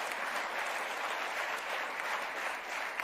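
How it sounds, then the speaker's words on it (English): Audience applause for an award recipient at an awards ceremony, a dense, steady wash of clapping from a large crowd throughout. "A big round of applause for Dr."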